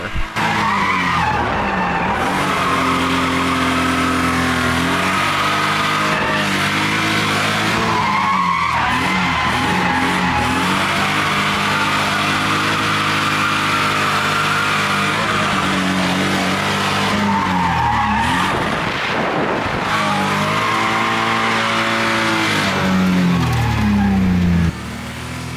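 A drift car running down on power skids and squeals its tires around a track, the engine droning with rising and falling pitch sweeps through long, loud continuous slides.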